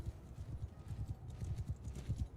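Horse hooves clip-clop in a rapid, steady rhythm during a Mount & Blade II: Bannerlord online clan battle, a fairly close, low thudding gallop sounding on its own without talk.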